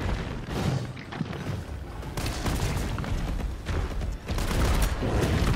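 Rapid bursts of gunfire and booming shots from the video game Resident Evil 3 fill the clip, dense and loud throughout with a brief dip near the end.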